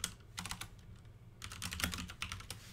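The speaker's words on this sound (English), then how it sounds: "this is a keyboard I used" Fast clicky typing on a computer keyboard, close and fairly quiet, comes in uneven bursts of keystrokes with a short lull in the middle; no one speaks.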